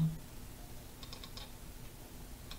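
Quiet computer mouse clicks and light keyboard taps while editing drawer settings in drawer-design software, a short cluster of faint clicks near the middle and one more click near the end, close and soft.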